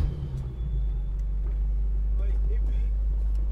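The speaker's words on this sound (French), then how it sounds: "Une M5, c'est beau, mais c'est beau aussi quand ça démarre." A BMW M5 F10 fires up, its engine rumbling into a deep, steady idle close by, with a voice talking over it.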